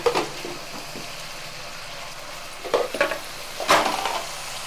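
Chicken pieces frying in ghee in a pot give a low steady sizzle, broken by a few clanks and scrapes of a utensil against the pot.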